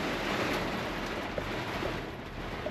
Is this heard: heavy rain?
yes